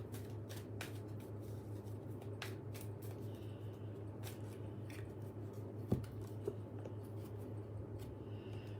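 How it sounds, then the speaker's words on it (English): Soft, repeated riffling and scraping of playing cards being shuffled up close, in quick irregular bursts over a low steady hum. "Give the cards a bit of a shuffle, shuffle, shuffle."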